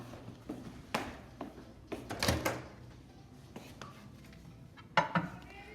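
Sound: locking microwave rice cooker lid and placing it in microwave

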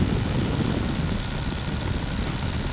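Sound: Tiger Moth biplane engine in flight

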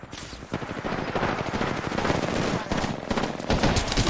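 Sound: gunfire in a video game (Apex Legends)

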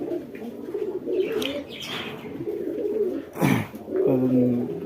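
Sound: pigeons cooing

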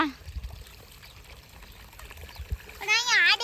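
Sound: irrigation water flowing in a field channel

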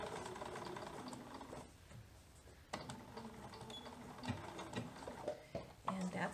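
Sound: sewing machine stitching a baby dress

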